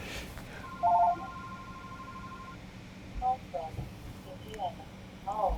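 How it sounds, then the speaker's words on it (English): A phone rings with short electronic tone chirps, one early and then a quicker series of bursts, heard faintly over the low hum of a quiet room. "my phone was ringing"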